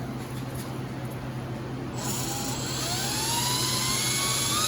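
A drill bit bores into aluminum, a close high-pitched whine over a low hum that shifts and rises as the bit bites in, growing slightly louder toward the end, with no talk.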